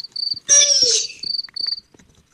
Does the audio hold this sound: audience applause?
no